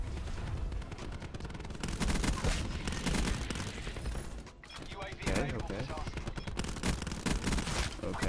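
Video game gunfire: sustained, rapid machine-gun-style bursts and heavy shots crowd together into a loud, dense barrage with only a brief lull midway.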